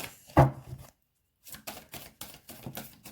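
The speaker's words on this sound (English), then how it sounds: "That one just fell out of my crappy shuffling." Tarot cards being shuffled by hand, a loud flick near the start, a pause, then a run of rhythmic soft riffling slaps close by.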